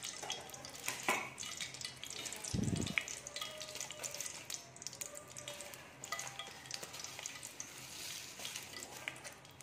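Cumin seeds sizzling in hot ghee in a cooking pot: a soft, steady crackle and hiss with a brief clunk of stirring, fairly faint and continuous, no speech.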